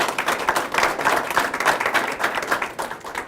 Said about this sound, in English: That round of applause for